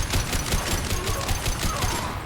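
Rapid bursts of gunfire and explosions in Mass Effect 2, a rhythmic crackling barrage repeating steadily and loudly throughout.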